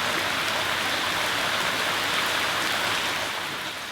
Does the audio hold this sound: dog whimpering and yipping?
no